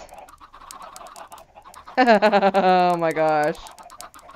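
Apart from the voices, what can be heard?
Cluckia chickens clucking in Minecraft video game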